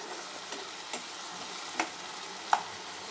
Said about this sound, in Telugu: పసుపు, ఉప్పు వేసుకొని వేయించుకుంటే టమాటా ముక్కలు మగ్గిపోతాయి